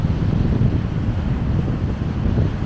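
Rough sea on a cloudy day along the Pangasinan shore, with wind buffeting the microphone and waves churning nearby: a dense, steady low roar without a break and no one talking.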